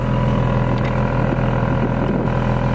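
A 2018 Audi SQ5 exhaust gives a loud, steady low rumble that drones on without a break and has no talk over it.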